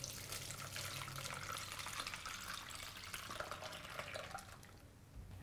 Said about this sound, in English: Pour it in here so that the pulp gets strained.